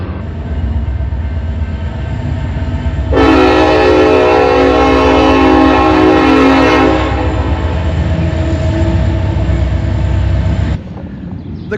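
A train rolls past loudly and close in an urban rail yard area, its rumble steady throughout while a long, sustained horn blast sounds for several seconds in the middle before the noise drops off at the end.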